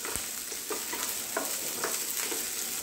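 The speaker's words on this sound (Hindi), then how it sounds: "इन दोनों को मिलाकर कैप्सिकम को हल्का सॉफ्ट होने तक मैं भून लूंगी" Chopped onion and capsicum fry in a pan for a quick paneer sabzi, giving a steady close sizzle with occasional soft stirring scrapes and no talk.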